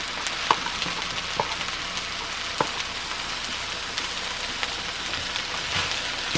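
Shrimp and eggs fry with rice in a hot pan, a steady dense sizzle with occasional sharp pops and spatters throughout.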